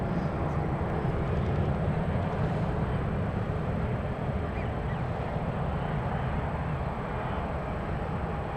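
Boeing 777 airliners pass at San Francisco airport with a steady, broad jet engine roar that stays loud and fairly close throughout, with no talking.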